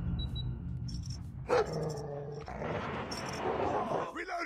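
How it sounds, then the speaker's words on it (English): A dog barks once in Call of Duty Mobile, a short sharp bark cutting through gunfire and game effects while someone talks over the action. "Cannot burn the dog."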